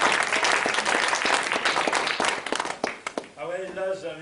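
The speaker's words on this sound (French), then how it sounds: "on peut applaudir à Isabelle et Philippe." An audience at a village evening gathering in Plouagat applauds a couple, hearty clapping that runs steadily before thinning out as a voice starts speaking near the end.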